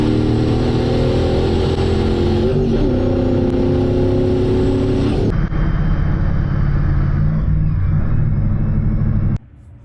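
A car with a rear-mounted turbo pulls hard under boost, its engine note rising loud and close, then drops briefly at a gear change before climbing again and cutting off abruptly at the end.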